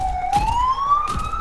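A police siren wails loudly in one long, rising tone, with low thumps and rumbles from an Overwatch match underneath.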